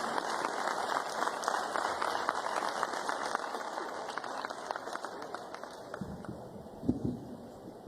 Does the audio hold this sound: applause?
yes